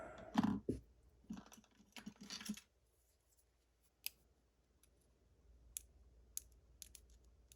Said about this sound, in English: You guys could hear the clicking and popping as I was picking